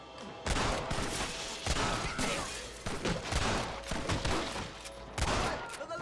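Rifle gunfire in the Western video game Red Dead Redemption during a shootout, with dense, overlapping shots and bursts that keep up throughout at a steady loud level.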